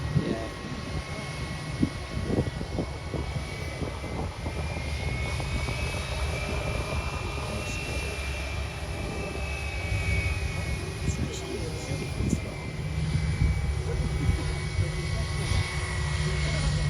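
Steady aircraft engine drone fills the air outdoors at Manchester Airport, a plane passing at moderate distance with broad rumbling noise throughout and no clear voices.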